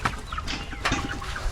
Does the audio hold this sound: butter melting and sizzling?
no